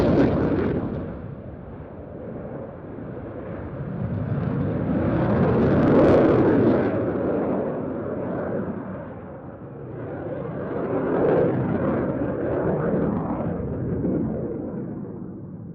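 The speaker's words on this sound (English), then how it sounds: "this year they sent the JAS 39C Gripen for the flying display" Saab JAS 39C Gripen fighter jet performing a flying display at the Roskilde Airshow, a loud, sustained jet roar that swells and fades as it passes, peaking mid-pass and rising again later.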